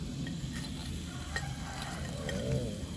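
Croaker fish deep-frying in oil in a rural kitchen, a steady close bubbling sizzle throughout with faint clinks of a utensil.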